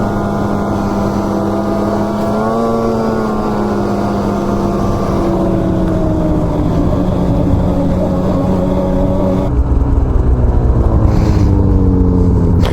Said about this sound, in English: Starting to learn all the little spots where I can really wheelie over on the sled.